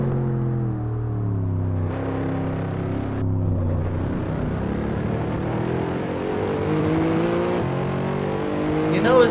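The V12 engine of a Mercedes SLS in the racing game Assetto Corsa revs and drones steadily, its pitch sliding up and down through gear changes, loud and continuous with no talking.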